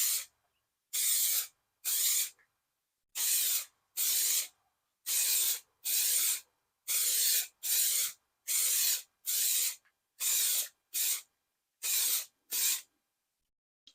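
Spray paint being applied in thin layers to the wheel rim of a Kawasaki Ninja 250R motorcycle, heard as a dozen or so short, close hissing bursts separated by brief silences, with no talk.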